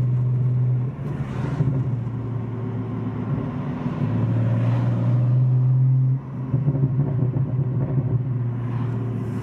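A BMW with an MHD burble tune drives along with the windows partly down. A deep exhaust drone rumbles steadily, rising in bursts as it accelerates and easing off between them, with no talking.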